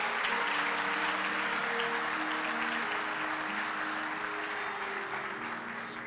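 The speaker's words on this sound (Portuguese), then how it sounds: "Você pode aplaudir a ele por isso?" A church congregation at a Comunidade Deus Provedor service applauds in a full, sustained round of clapping, with held musical tones humming beneath, tapering only slightly over six seconds.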